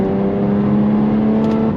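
An Audi A7 Sportback with a twin-clutch gearbox accelerates at full throttle on a dual carriageway, a loud steady engine drone with a rising tonal whine heard from inside the car.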